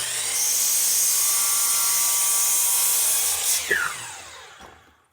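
A power saw motor strains through a fast cut. A loud, steady, high-pitched whine holds for several seconds, then winds down and fades as the cut finishes.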